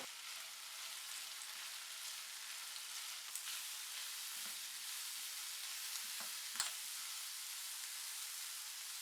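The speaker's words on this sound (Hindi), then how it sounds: "अब इसको तेज़ आंच पे 1 मिनट फ्राई करेंगे" Chicken with sliced onion and long-cut capsicum frying on a high flame, a steady bright sizzle running throughout with a few soft stirring clicks, fairly quiet and with no talking.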